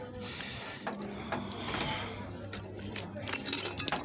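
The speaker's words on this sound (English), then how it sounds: "So we are going to tap using a T handle." A tap turned by a T handle cuts threads into metal in short stop-and-start bursts, with faint metallic clicks and scraping close by and a voice speaking briefly.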